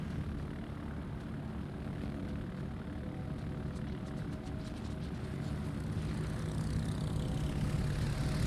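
Steady propeller-driven aircraft engine drone of carpet bombers in the naval combat game World of Warships, a continuous mid-level hum that swells slightly louder toward the end, with no talk over it.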